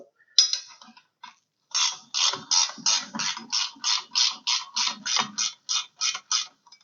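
Ratcheting a wrench on bolts while fitting a rear bumper to a Polaris Ranger: a short burst of clicks, a pause, then a long steady run of about fifteen even, close ratchet strokes.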